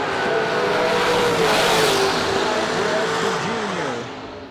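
A Chevrolet Lumina and a dragster launch side by side down a drag strip, a loud sustained engine roar rising in pitch before fading off into the distance.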